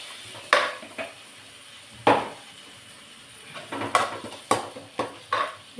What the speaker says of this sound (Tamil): எல்லாம் நல்லா மிக்ஸ் பண்ணி விடுவோம்.